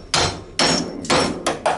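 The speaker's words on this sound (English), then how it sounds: "you hit it with a hammer a couple times, and pop it off there" A hammer strikes parts of a gaming computer being scrapped: four loud, close, sharp blows in about two seconds, each a bright metallic whack that fades quickly, with no talking.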